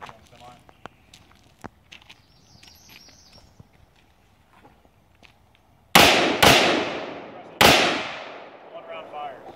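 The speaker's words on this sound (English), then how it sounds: "Now you can do it on semi-automatic." A gun fires on semi-automatic during SWAT training: three loud, sharp reports in quick succession, each ringing out with a long decaying echo, after a stretch of quiet background murmur and clatter.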